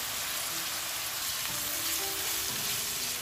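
Onions frying in a pan for a simple village-style dish with Vietnamese dried fish, giving a steady, close sizzle and crackle that holds evenly throughout, with no talk.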